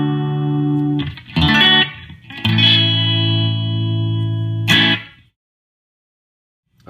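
Electric guitar played through a Seymour Duncan Pickup Booster pedal set at twelve o'clock: a few sustained, slightly colored chords with sharp pick attacks, ringing out before falling silent.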